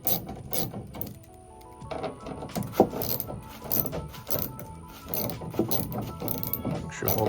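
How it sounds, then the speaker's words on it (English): An 8mm ratchet backs out the two bolts holding a vehicle taillight, giving repeated close clicking and metallic mechanism sounds in short bursts with a few brief louder knocks. "Now you need an 8mm to remove just 2 bolts"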